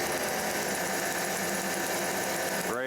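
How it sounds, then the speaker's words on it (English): A car engine cranks over steadily during a spark plug spark test after an ignition repair, giving a continuous rhythmic churning that stops abruptly near the end. "we'll crank it up and hopefully see some spark"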